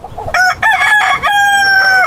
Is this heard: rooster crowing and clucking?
yes